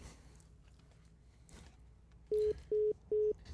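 On a call-in talk show's phone line, three evenly spaced, loud electronic beeps ring out once the caller has hung up, over faint background room noise.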